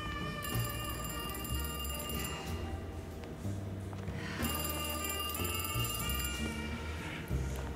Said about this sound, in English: Answer the damn telephone.